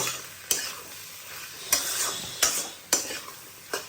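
Potatoes and egg are stirred together in a frying pan, with a soft sizzle running throughout and several sharp utensil scrapes and knocks against the pan at irregular intervals.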